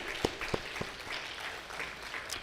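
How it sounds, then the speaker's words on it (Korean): A church congregation applauds for fathers during a Father's Day service, a faint, scattered clapping with a few sharper claps standing out over a quiet roomy background. "아버지들 위해서 박수 한번 드리겠습니다"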